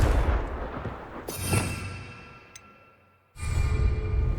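Confringo fire spell cast in the video game Hogwarts Legacy, a sharp whooshing blast that fades away, then another burst erupting loudly after a brief quiet.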